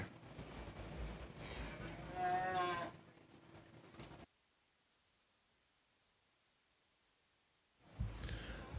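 Cattle low and moo at a county fair beef show in the market and breeding heifer classes. The sound is loud and close for about four seconds, then drops to near silence before rising again at the end.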